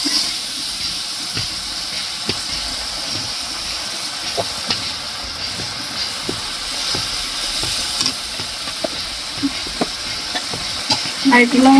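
Food being stirred and fried in a hot pan, with a steady sizzling hiss and scattered scraping clicks of a utensil, a few louder scrapes near the end.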